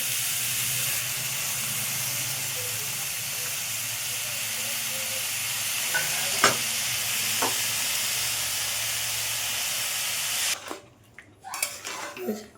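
Raw mango and sugar cook in a pan on low heat for Bengali-style chutney, giving a steady close hiss and sizzle with a few clinks, then the hiss drops away near the end.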